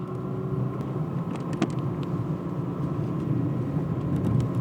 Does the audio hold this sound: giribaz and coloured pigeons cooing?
no